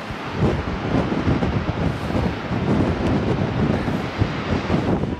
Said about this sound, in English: The wind is definitely picking up now that we're on this side